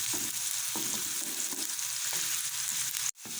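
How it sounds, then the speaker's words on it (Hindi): Chopped onions with ginger-garlic paste sizzle steadily in hot oil in a pan while being stirred, a continuous close frying hiss with soft scraping stirs and a brief cut near the end. "प्याज हमारा सौते हो गया था, हमने इसमें अदरक और लहसुन का पेस्ट ऐड किया है"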